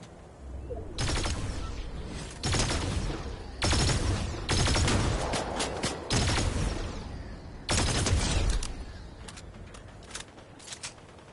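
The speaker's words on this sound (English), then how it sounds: "Look, I hear a sniper." Sniper rifle shots in Fortnite: several loud, separate blasts spaced a second or two apart, each followed by a short crackling tail, then quieter gaps and a few faint pops near the end.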